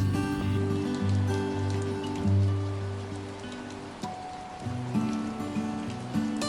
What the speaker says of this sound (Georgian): ამასობაში გაგვიწვიმდა და ესე ლამაზად წვიმს.